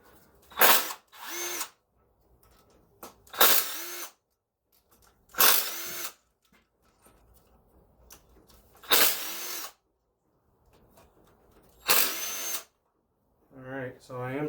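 A power tool with a socket extension spins out cylinder head bolts on a 1995 Camaro in five short, loud whirring bursts spaced a few seconds apart, with a voice at the end.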